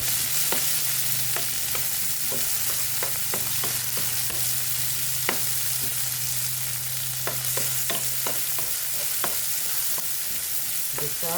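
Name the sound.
sautéing ingredients for corned beef in a pan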